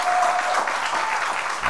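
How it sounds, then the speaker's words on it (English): Audience applause at a concert venue, a dense, steady wash of clapping from a crowd that fills the room evenly, heard close and loud throughout with no voice over it. "I think a big round of applause"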